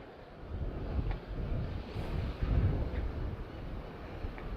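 Steady wind buffets the microphone at an outdoor fishing match venue by the water, a continuous low rumbling roar with gentle surges, no voices.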